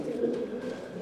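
Domestic pigeons coo in a low, steady purring murmur, close and continuous, with no speech over it.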